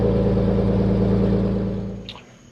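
A Volvo haul truck's diesel engine idles loud and steady with deep harmonic rumble, then fades slightly near the end with a brief higher mechanical squeal.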